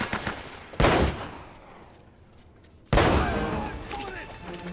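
Two loud gunshots from a gun in Uncharted: Drake's Fortune, in the treasure vault, land about two seconds apart, each followed by a long echoing decay.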